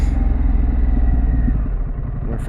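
A Harley-Davidson Pan America motorcycle's exhaust rumbles steadily at speed on a road, a continuous loud low drone with engine pulses and wind roar, no speech.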